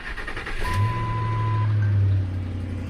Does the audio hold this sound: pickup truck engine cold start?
yes